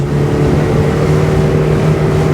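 A 100 horsepower motorboat engine runs hard and steady as the boat accelerates through waves, a loud continuous drone with a low hum and constant wind and water rush close to the microphone.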